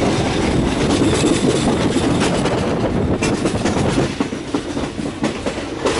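A train rumbles steadily along the rails with a dense, continuous roar and rhythmic clattering from the wheels, heard from inside a third-class carriage leaving Hat Yai Junction, Thailand, on the Hat Yai–Surat Thani line.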